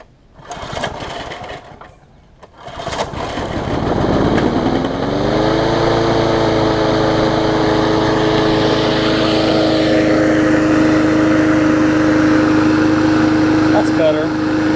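A Briggs & Stratton engine repowering a basic MTD walk-behind lawn mower sputters, then catches and settles into a loud, steady idle hum that runs alone and unbroken to the end.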